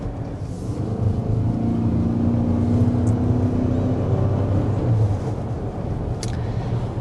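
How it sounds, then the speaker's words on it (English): A low, steady engine drone with a smooth, rising hum as a 2025 Lincoln Nautilus hybrid SUV with a continuously variable transmission accelerates, no gear shifts, continuous throughout with muffled road noise. "As you might be able to hear, this does come with a continuously variable transmission."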